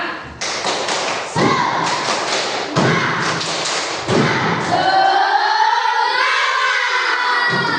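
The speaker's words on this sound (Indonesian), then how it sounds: "Sekarang biar lebih semangat lagi, tepuk semangat." A class of students claps a rhythmic 'tepuk semangat' pattern, loud, heavy group claps landing in a few spaced accents, followed by the group chanting together.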